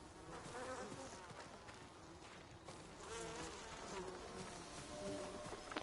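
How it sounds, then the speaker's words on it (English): Hornets swarm around a hornet's nest in Ghost of Tsushima, a continuous wavering insect buzz that stays fairly faint and close with shifting pitch, and no talk over it. "Hornet's nest."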